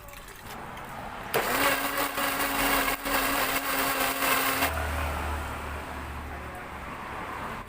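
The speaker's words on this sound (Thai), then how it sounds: "ปั่นกับหางกะทิเลยนะคะ" A countertop blender purées boiled mushrooms in thin coconut milk for a vegetarian Thai curry sauce. A single loud whirring burst lasts a few seconds, then cuts off into a low background hum.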